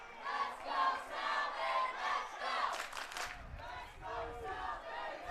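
A large crowd at a men's college soccer match roars and chants in loud, continuous waves, with surging cheers rising and falling throughout.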